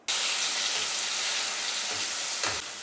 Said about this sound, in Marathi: टमाटर आपल्याला तेलामध्ये होऊ द्यायचं आहे